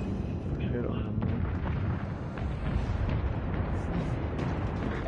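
Naval gunfire rumbles in the World of Warships video game, a dense continuous roar of heavy booms and blasts under game ambience.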